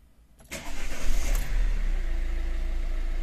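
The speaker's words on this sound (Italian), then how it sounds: "se mettiamo in moto la macchina" A Fiat Tipo 1.6 Multijet II diesel car engine cranks and fires after a brief quiet moment, then settles into a close, steady low idle rumble with no voices.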